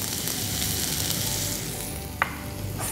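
Onion, garlic and ginger hit hot oil in a pan and fry with a steady, close hiss, a small pop breaking through near the end.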